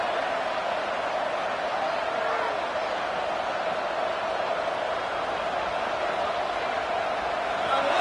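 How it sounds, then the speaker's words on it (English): A stadium crowd at a college football game sends up a steady, distant wash of cheering and roar that holds evenly throughout while a commentator talks over it. "This crowd bringing the energy and noise early."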